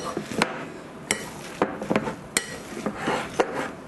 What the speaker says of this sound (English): So I'm just gonna dump that into my mixture and then we can mash it up again